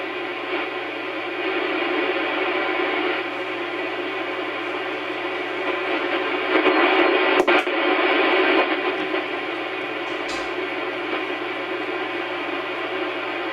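A ham radio receiver tuned to the 160 meter band hisses with steady static and faint hum, swelling slightly midway with brief crackles and a short tuning blip.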